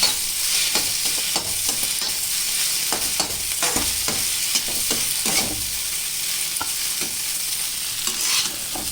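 Food fries on high flame in a pan while being stirred, with a steady sizzle throughout and repeated scraping strokes of a spatula, close and fairly loud, no talking.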